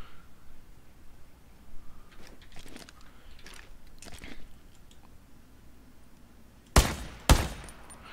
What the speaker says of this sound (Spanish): Que acabo de escuchar disparos.